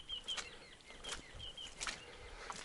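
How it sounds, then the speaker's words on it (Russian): Birds flap their wings by a flooded riverbank in spring, several soft whooshing beats coming in bursts over low outdoor background noise. "Птицы."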